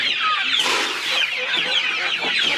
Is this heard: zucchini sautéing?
no